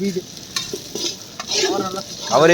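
Onions frying in a pan while being stirred, with intermittent scraping and sizzling over a steady hiss and some faint background voices and clatter.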